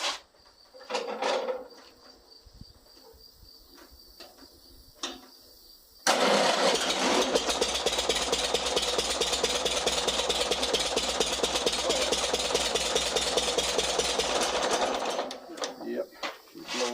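An Oliver 60 tractor engine with a fouled spark plug cranks over to check compression, a steady rhythmic churning after a few scattered knocks and a voice, then stops.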